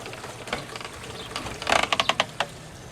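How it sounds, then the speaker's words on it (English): A pool sand filter's multiport valve handle is turned to the rinse setting, making a short burst of close ratcheting clicks and clacks against faint background noise. "now you're going to move the handle over to rinse"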